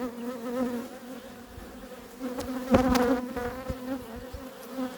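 Bees buzz around an opened, non-standard beehive, a close, steady droning hum that swells briefly in the middle, with no talk over it.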